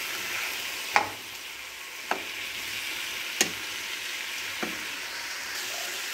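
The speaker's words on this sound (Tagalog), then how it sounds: "Haluin natin." Chicken adobo with oyster sauce and garlic powder frying in a pan under a steady low sizzle, with four sharp scraping clicks of a utensil as it is stirred, no talking.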